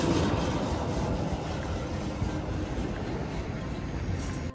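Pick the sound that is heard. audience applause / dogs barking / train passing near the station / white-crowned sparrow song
train passing near the station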